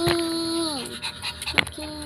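Dogs pant and whimper in short close bursts, with a high whine gliding downward and brief yips, under light background noise.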